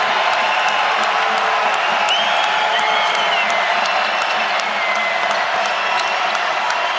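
Basketball arena crowd at a VCU at Dayton college game roaring and cheering steadily and loudly after a big shot, a dense wall of noise with scattered whoops and faint court squeaks, a commentator's voice partly under it.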